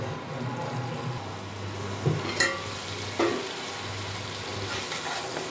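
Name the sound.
turmeric frying in a pan for dhaniya aloo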